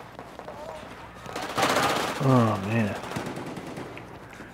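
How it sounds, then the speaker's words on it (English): A burst of automatic gunfire from the Battlefield 4 shooter on the Lancang Dam map, a loud rattling volley lasting about a second, with a man's brief spoken remark over and after it. "The report of gunfire."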